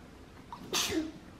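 One sharp sneeze bursts out suddenly after a quiet moment, close and fairly loud, then fades away.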